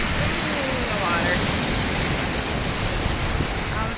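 Lake Superior waves washing against the shore, a steady loud rush of surf and spray with wind, continuous and close throughout.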